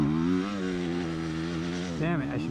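A dirt bike climbs a rutted, rocky trail, its engine droning loud and close with a steady buzzing tone that wavers as the throttle shifts, then briefly revs higher near the end.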